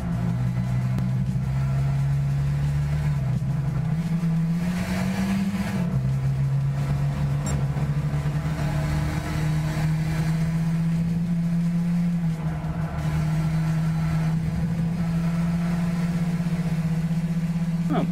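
A racing car engine in Gran Turismo 6 drones steadily, its pitch shifting up and down as it revs, with a sustained electronic quality throughout.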